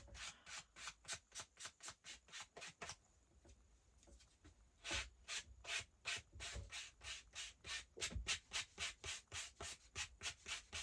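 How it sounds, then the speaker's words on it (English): Rhythmic back-and-forth sanding strokes on the edges of paper bookmarks, quick scratchy rasps in a steady beat, briefly pausing midway before resuming, close and fairly quiet. "Just keep sanding on around it."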